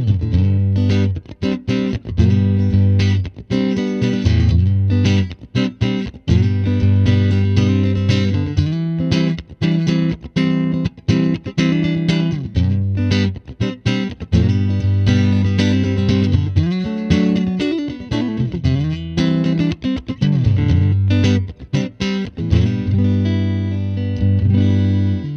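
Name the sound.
electric guitar through tube amplifier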